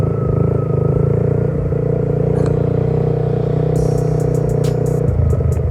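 A Yamaha Y15ZR motorcycle in budget Malay-style MX-King trim with small tyres rides along in second gear. Its engine drones loud, close and steady throughout, with a light rattle near the end.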